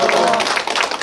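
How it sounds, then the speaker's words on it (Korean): Brief applause at a town residents' meeting in Andong with the mayor visiting, a short burst of loud, close clapping from a gathered crowd that tapers off within a second. "박수."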